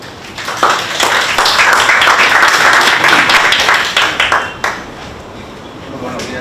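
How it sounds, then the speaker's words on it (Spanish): Audience applause greeting a speaker at a geophysics lecture on magnetotelluric methods for geothermal studies, a steady wash of clapping from a hall crowd that swells after the first half second and fades around the five-second mark. "Recibámoslo con un caluroso aplauso."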